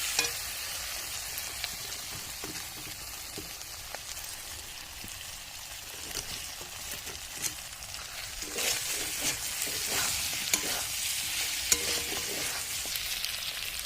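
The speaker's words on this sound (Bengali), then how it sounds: "মাংসের গায়ের থেকে তেল ছাড়তে শুরু করেছে।" Meat sautéing in a pan until oil separates, a soft steady sizzle heard close and fairly quiet, with occasional spatula scrapes and light crackles growing slightly busier toward the end.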